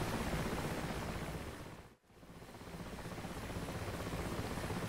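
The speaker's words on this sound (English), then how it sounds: "we'll be taking a helicopter tour of the Damascus area" Helicopter in the DCS combat flight game on the Syria map near Damascus, a loud, steady broadband rotor and engine roar that dips briefly to near silence midway, then resumes at full strength.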